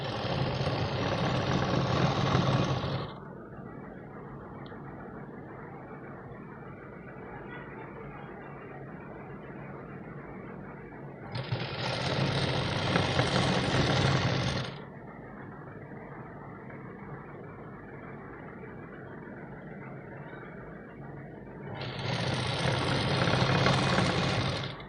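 A domestic sewing machine stitches a folded blouse strip in two long steady whirring runs of about three seconds each, with quieter gaps between them and no talk.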